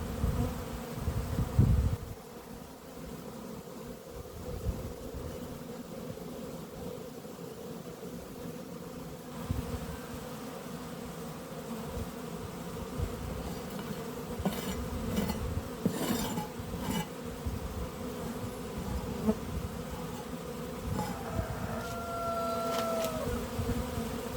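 Honeybees swarm around opened beehives as they are cleaned and inspected, a dense, steady buzzing that fills the whole stretch, with individual bees droning close past now and then and faint outdoor noise beneath.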